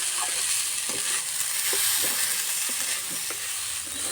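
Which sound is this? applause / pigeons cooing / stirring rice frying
stirring rice frying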